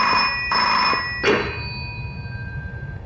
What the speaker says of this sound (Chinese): 接电话去。